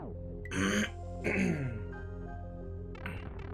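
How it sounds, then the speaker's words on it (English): A person clears their throat with a few rough, voiced rasps and groaning sounds, close and fairly quiet. "It's not even really a cough, it's just my body trying to clear my freaking throat."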